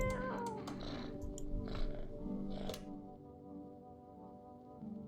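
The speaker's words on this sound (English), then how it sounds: "What's up, kitty? Can I pet you?" A cat gives a few close meows in the first three seconds, then a low steady hum fills the rest of the clip.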